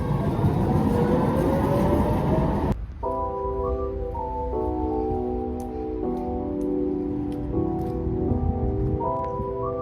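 Steady rushing noise of a train at a station beside an apartment building in Germany gives way to a sustained multi-tone electronic chime or signal, moderately loud.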